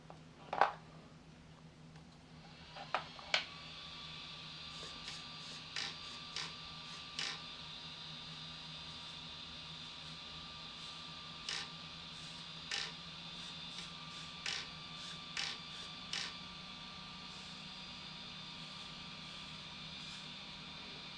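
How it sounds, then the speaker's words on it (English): A 25KG steering servo on a Hot Racing-upgraded Big Rock v3 RC car makes a series of short, sharp whirring bursts at irregular intervals over a faint steady electronic hum. "Let's see if the servo starts."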